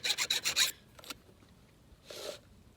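Hand file sharpening the 32-inch chain of a Husqvarna 372XP chainsaw: four quick, close rasping strokes in a row, a pause, then one more stroke, with no talking.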